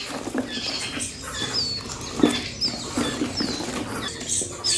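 Soft fluttering of a small caged bird's wings in bursts, with light scratchy patter and shuffling, close by and fairly quiet.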